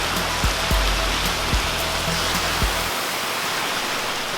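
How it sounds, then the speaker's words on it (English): Heavy rain pouring down outdoors, a loud, steady hiss of water with a low hum underneath that cuts out partway through, leaving just the downpour. "it is just pouring buckets out here"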